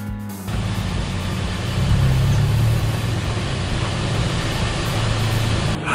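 An old car in Thailand rolls up outside an airport with a low, steady engine rumble that swells slightly midway and holds fairly loud and close against the surrounding traffic noise.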